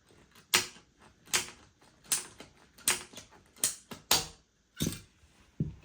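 A tapered wooden pole for a homemade shade canopy being sawn in half, heard as a run of about eight sharp, rasping strokes in a steady rhythm, loud and close, with no talking.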